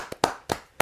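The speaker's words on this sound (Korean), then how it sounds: "이건 박수 해야 됩니다." In a radio studio after a live song, a few crisp hand claps land one by one in under a second, sparse and fairly close.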